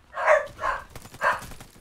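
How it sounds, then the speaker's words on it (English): Dogs bark at a newspaper delivery: three loud, close barks spaced about half a second apart, then quieter background noise. "My dogs are going crazy because of the newspaper."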